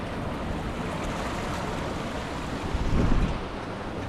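Strong ocean waves roll and crash near an island shore, a constant rushing surf with wind noise, swelling into a louder surge toward the end.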